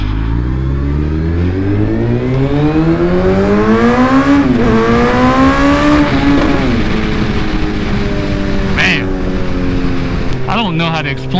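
A 2019 Suzuki Hayabusa motorcycle accelerates hard in first gear, its engine note climbing steadily in pitch as it revs up, with brief dips at gear or throttle changes, loud and close with wind noise throughout.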